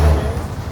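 A bus stuck in a dense Sunday traffic jam gives a loud, close, low engine rumble mixed with a brief hiss like an air brake; no voices.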